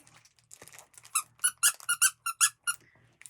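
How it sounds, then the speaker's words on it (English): The squeaker inside a Wibbleez dog toy squeaks in a quick series of about eight sharp, high-pitched squeaks, preceded by soft handling rustles and crinkles, close and clear with no talking. "Find the squeaker. Did you hear it?"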